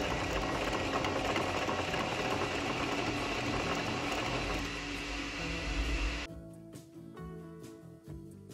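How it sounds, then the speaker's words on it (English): Sewing machine stitching along the fabric edge of an ice cream cozy, a steady close mechanical whir that stops after about six seconds, followed by faint handling noise. "Sew along the edge and skip 3 inches for the opening."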